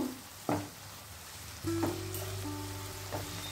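Onion and tomato frying in a pan are stirred with a spoon, giving a quiet, close sizzle with a few scraping knocks against the pan over a low steady hum.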